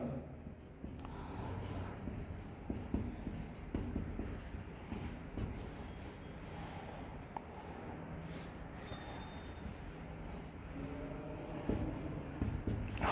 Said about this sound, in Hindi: इधर लिखते हैं बाकी का